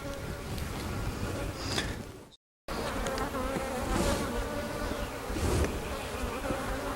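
Honeybees swarm around an open hive being inspected outdoors, a dense, loud, continuous buzzing drone close by, broken only by a very brief dropout.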